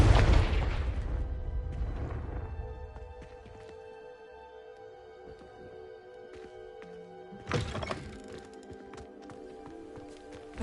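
A magical blasting-spell explosion bursts in a Harry Potter video game, a heavy boom that opens loud and close and then decays into a lingering hum, with a second smaller impact a few seconds later.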